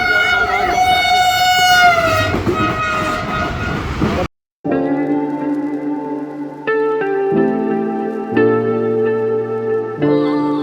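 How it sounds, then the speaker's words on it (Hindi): The Pakistan Express passenger train passes near Kotri, with loud rushing and rumbling running under talk at first, then a brief gap followed by long sustained horn blasts that change pitch several times. "कोटरी से निकलने के बाद हमारी मुलाकात हुई 45 अब पाकिस्तान एक्सप्रेस से,"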